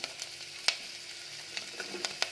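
Chopped fresh ginger and garlic fry in a pan for menthe rice, with a steady soft sizzle and a few sharp spatters and stirring clicks. It is quiet and close, with no talk.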